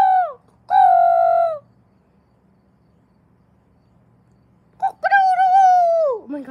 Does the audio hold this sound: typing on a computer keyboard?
no